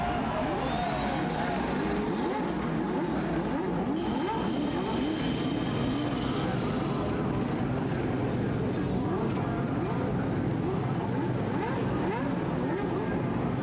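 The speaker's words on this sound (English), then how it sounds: "Gentlemen, start your engines." Twenty-five IndyCar engines fire and rev together on the starting grid in Portland, a dense, steady, layered mechanical roar of overlapping rising pitches that fills the whole stretch.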